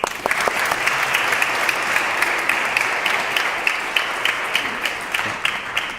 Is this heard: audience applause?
yes